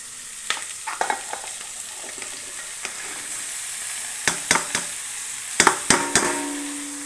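Bottle gourd pieces frying in a pan while being stirred, a continuous sizzle broken by irregular clacks of a spoon striking the pan, close and without talk.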